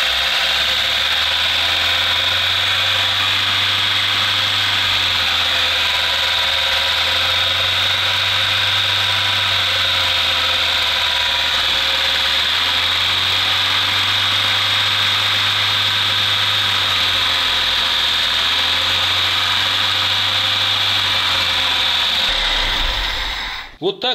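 A VAZ car engine with an OZON carburettor idling hot after adjustment of its starting speed, a steady close mechanical hum with a faint rhythmic waver in the revs, running continuously without talk before cutting off at the end.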